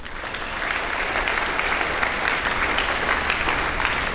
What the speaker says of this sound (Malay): Satu tepukan yang gemuruh.